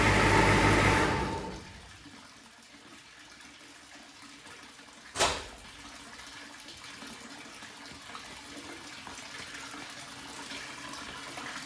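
Water runs from a hose into the radiator of a 1986 IDI diesel truck, starting as a loud gush and then settling into a steady, softer trickle with one sharp knock partway through.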